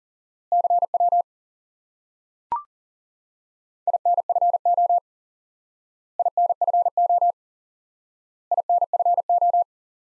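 Morse code in CW spells out the prosign QRX: short bursts of a steady, clean tone separated by silent gaps, repeated four times, with a single sharp click between the first two groups.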